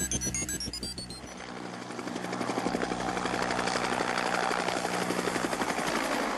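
A Bell AH-1 Cobra attack helicopter roars close and loud, its rotor chop pulsing in a rapid steady rhythm that swells and holds, with no voices over it.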